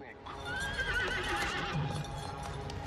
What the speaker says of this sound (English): What the horse doesn't like, of course, is having its head held. So it's put its hooves up there.